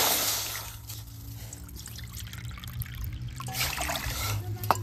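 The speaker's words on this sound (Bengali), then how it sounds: "3 বাটি জল দিয়ে দেব।" Water trickles and pours into a pan for making sugar syrup for Bengali pitha, a steady close splashing stream in a home kitchen that ends with a few soft clinks.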